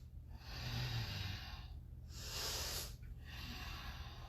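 Slow, deep breaths during a power yoga session, drawn in and pushed out as steady airy rushes, three long breath sounds close to the mic with brief pauses between them.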